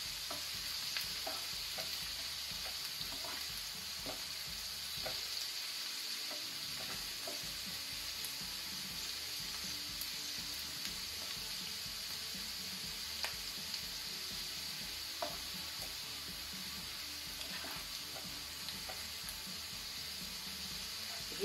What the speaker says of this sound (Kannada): ಅದು ಸಹ ತುಪ್ಪದಲ್ಲಿ ಫ್ರೈ ಆಗಲಿ.